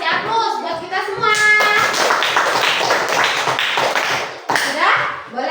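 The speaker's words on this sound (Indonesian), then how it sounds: "kasih aplaus buat kita semua" Students in a classroom during an Islamic studies lesson burst into group applause that fills most of the moment. A voice speaks briefly at the start.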